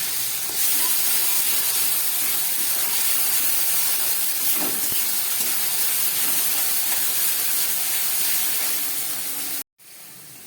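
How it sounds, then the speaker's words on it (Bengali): A paste of onion, green chilli and garlic fries steadily in a pan, giving a loud, continuous hissing sizzle that holds for almost the whole stretch before stopping abruptly near the end. "পেস্ট করা মশলাটা দেবার পরে আমি 1 মিনিট মতো কষিয়ে নিলাম"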